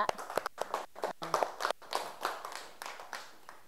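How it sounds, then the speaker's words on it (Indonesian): Fifth-grade schoolchildren in a classroom clap for their classmates from group 2, a scattered, uneven patter of small hands at moderate distance that thins out toward the end. "tepuk tangan dulu untuk temannya dari kelompok 2"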